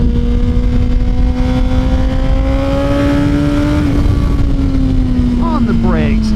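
Suzuki GSX-R1000 sport motorcycle engine droning steadily at high revs while riding, a loud continuous tone rising slightly then easing, with a brief gear-change warble near the end.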